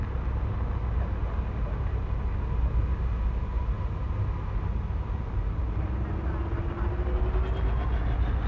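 A spacecraft engine in the video game Elite Dangerous Odyssey powers up with a steady, dense rumbling roar and a faint rising whine toward the end, continuous and fairly loud.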